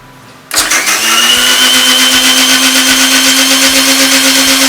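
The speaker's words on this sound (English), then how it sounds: "So now let's put this mixture into the blender." A kitchen blender whirs up a healthy satvic recipe mixture, its motor kicking on abruptly after a brief quiet moment and then running at a loud, steady pitch with no one talking.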